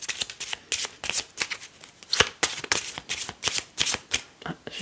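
A 32-card deck is cut and then shuffled by hand close up, giving a rapid series of crisp riffling flutters and slaps in an uneven rhythm, with no voice over the cards.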